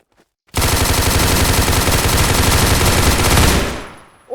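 Rapid automatic gunfire in a Roblox game, a loud, continuous burst lasting about three seconds before cutting off, with no talking over it.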